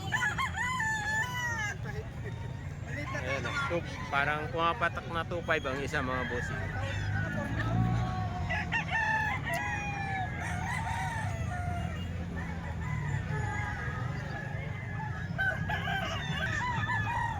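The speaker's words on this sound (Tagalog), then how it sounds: "Tatlong manok daw dito mga bossing" Roosters and hens at a rooster sale crow and cluck repeatedly, several birds calling close by while someone talks over them throughout.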